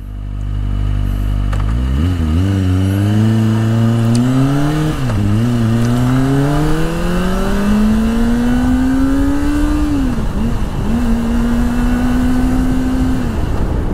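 A Kawasaki ZX25R motorcycle rides through Japanese streets at midnight, its engine loud and close as it revs up through the gears in rising whines, then holds a high steady drone.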